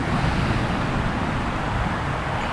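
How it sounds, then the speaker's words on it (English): Ocean waves wash in a steady, unbroken roar of surf, soft and distant, with no talking over it. "I hope you can hear the waves, but they're not too loud."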